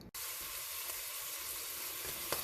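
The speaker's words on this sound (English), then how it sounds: "let me get started by cooking the sausage" Sausage browning in a pan for chili: a steady, dense sizzle starts abruptly and holds at an even level throughout, close and fairly loud, with no voices.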